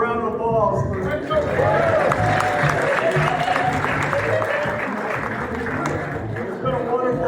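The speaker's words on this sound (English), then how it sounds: "Let's give Frank a round of applause." An audience at a county sports hall of fame ceremony applauds in a steady, dense roar of clapping that fills the hall, with crowd voices mixed underneath throughout.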